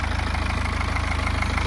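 A BMW 420d Gran Coupe xDrive diesel engine idles with a steady, rhythmic low clatter and a broad mechanical hum, close and continuous, with no voices.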